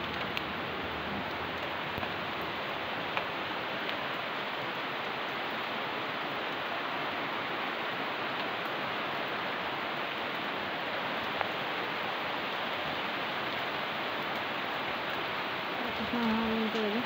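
Rain falls on garden plants in a steady, dense hiss of drops, constant and even throughout, with a faint voice briefly near the end.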